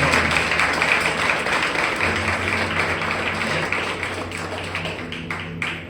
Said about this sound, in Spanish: dele el mejor de los aplausos al Señor.